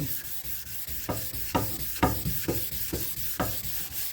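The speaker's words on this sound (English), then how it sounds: "There's all kind of techniques of doing the block sanding on round parts." Block sanding the round barrel of a rusty old firearm: a steady abrasive rubbing hiss with repeated stroke bursts about every half second, close and moderately loud, with no talking.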